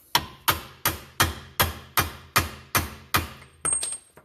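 A hammer drives a rear lower outer control arm bushing into a Lexus GS300, ten sharp metallic blows at a steady pace, loud and close, then a faint ringing scrape at the end.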